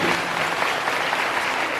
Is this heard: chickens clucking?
no